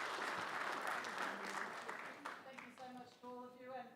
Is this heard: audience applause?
yes